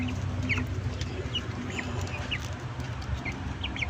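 Brahma chickens, bought as young birds, clucking and chirping in short scattered calls over a low rumbling farmyard background, fairly faint and close.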